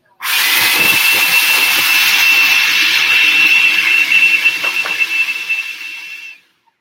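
A food processor blends taco nut meat with a loud, steady motor whir that runs for about six seconds, then turns rougher and rattling before cutting off.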